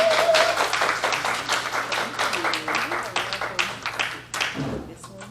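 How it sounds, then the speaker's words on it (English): Audience at a domestic abuse awareness event clapping, a close, uneven patter of individual claps with some voices mixed in, thinning out toward the end. "So with a round of applause"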